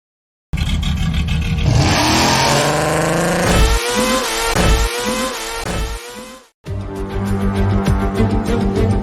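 Formula 1 cars race past, loud, high-pitched engine whines rising and dropping through gear changes in rapid succession, cut briefly before another engine roars back in.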